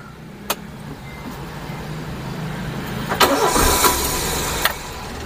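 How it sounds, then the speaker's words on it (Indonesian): A Daihatsu Zebra Espass car engine cranks briefly, catches and settles into a close, steady idle after a quiet opening and a single click. "sekarang kita starter aja"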